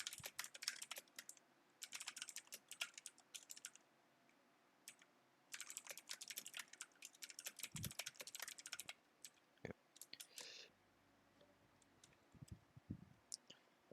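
Bursts of rapid computer keyboard typing with short pauses between them, close and fairly quiet, with no talking.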